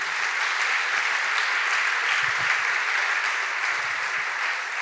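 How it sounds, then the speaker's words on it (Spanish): A church congregation applauds a pastor's sermon, a steady, dense wash of clapping hands that carries evenly and without a break for about five seconds, with no voices heard over it. "Y dale el aplauso."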